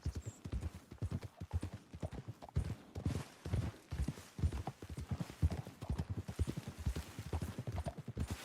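Horse hooves clip-clop steadily at a walking pace in Red Dead Redemption 2, a close, rhythmic clatter with a brief whinny mixed in and a low outdoor backdrop.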